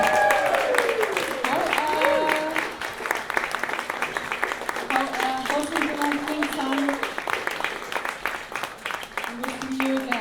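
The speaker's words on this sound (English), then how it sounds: "Let's give another round of applause for the Urban Haida dancers." Sustained audience applause fills the hall for the Urban Haida dancers, dense and steady throughout, with cheering and a few voices rising over the clapping.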